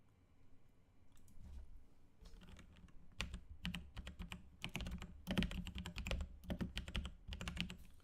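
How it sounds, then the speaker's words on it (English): Rapid typing on a computer keyboard placed right beside a microphone, with bursts of clattering keystrokes that grow denser and louder toward the middle and end, heard close up with no talking. "my keyboard is literally right there with my mic"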